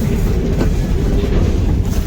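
A moving train passes very close on a campus rail line, a loud, steady rumble of wheels and cars filling the whole stretch without letup.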